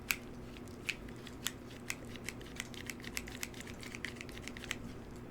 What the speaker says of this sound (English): And trim the bottoms a little bit too.